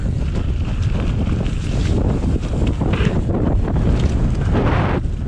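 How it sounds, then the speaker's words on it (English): Heavy wind buffets the microphone throughout a mountain bike ride on backyard trails, a constant loud rumbling roar with gusty surges and no voices. "Oh yeah, it's really windy."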